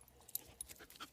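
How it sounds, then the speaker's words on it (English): A dog pants and snuffles close by in quick short breaths, with a couple of small sharp sounds, outdoors at the start of a trek. "Dog."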